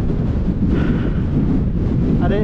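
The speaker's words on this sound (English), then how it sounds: "it's windy up here" Steady wind buffeting the microphone on a hilltop mountain bike ride between Rivington and Darwen Tower, a loud continuous low rumble throughout, with faint distant voices briefly underneath.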